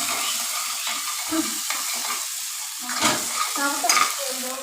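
Masala for a kofta curry fries in a pan with a steady broadband sizzle, broken by scraping stirs and clinks of a spoon against the pot, close and moderately loud with no talking.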